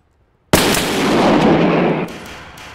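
A double-barrel shotgun blasts once in the video game South London 2, a loud, sharp report that holds as a dense roar for about a second and a half before tailing off, followed by small trailing pops.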